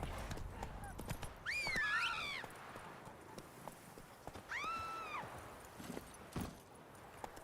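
Horse in The Witcher 3 video game trotting with steady clip-clop hoofbeats, joined by two loud, bright neighs; faint voices in the background.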